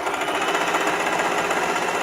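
A sewing machine stitches a pillowcase seam with a wider seam allowance, giving a steady, loud, continuous mechanical whir close by with no pauses.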